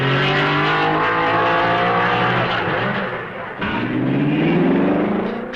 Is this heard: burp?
no